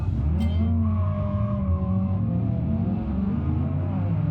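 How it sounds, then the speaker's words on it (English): V8 car engines in the BeamNG.drive driving game rev and roar steadily and close up, their pitch wavering and climbing slightly as the throttle rises and falls, with no talk over them. "Those V8 cars sound good."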